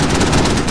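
A loud, close burst of Marine heavy-weapon fire from a .50 cal or Mk19 during a combined anti-armor drill, dense and continuous with no gaps.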